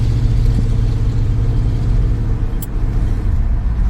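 Ford Ranchero with a three-speed automatic pulling away, a steady low engine rumble close by with road noise and a brief clunk partway through.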